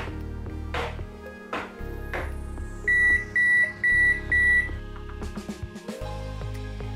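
A kitchen oven gives four loud, evenly spaced electronic beeps in the middle of a kitchen scene before a teacake goes in to bake, with clattering and handling noises before and after.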